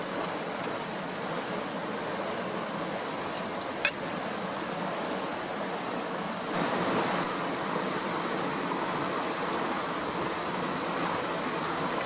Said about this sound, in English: And you want to pour it real slow and just let it slowly seep through.